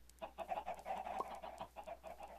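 Chickens in a video game cluck repeatedly in a busy, overlapping chorus, fairly close and quiet, with no talking.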